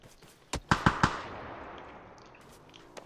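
Gunfire in the battle royale game PUBG during a final-circle fight: a quick burst of four sharp shots at moderate volume followed by a long fading echo and a faint later shot, no talking.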